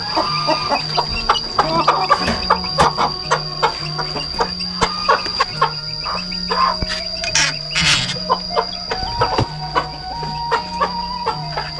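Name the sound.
bantam chickens clucking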